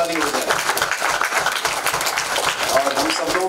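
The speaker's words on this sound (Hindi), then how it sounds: "जोरदार ताली हो जाए।" Sustained audience applause at a Jammin Season 3 music press conference honouring a singer's fifty-year career, a dense steady wash of clapping filling the room throughout.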